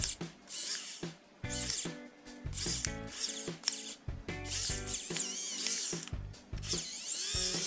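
A Xiaomi Wowstick electric screwdriver turning a small bolt gives close, loud bursts of rapid mechanical ratcheting whir, starting and stopping in short runs with brief pauses between.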